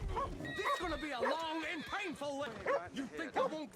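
Dog in the Red Dead Redemption 2 video game barking and whining in a run of short, close yelps, mixed with other game sounds and voices.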